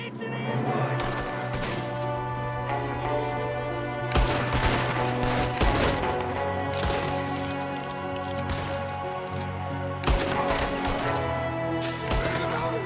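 Gunfire from a Red Dead Redemption 2 ambush crackles in repeated bursts over a steady background drone, with sharp volleys recurring every couple of seconds at moderate distance.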